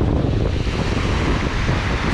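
Strong wind buffets the microphone at the seashore while heavy waves surge. A loud, dense, low roar fills the whole stretch with no pause, and no one speaks.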